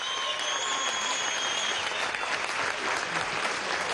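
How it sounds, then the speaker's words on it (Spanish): Dense, steady applause from a crowd at a Venezuelan school meal program event with President Maduro, a continuous wash of clapping with faint whistles or tones above it. "de aquí le podemos dar un tremendo aplauso, ¿vale?"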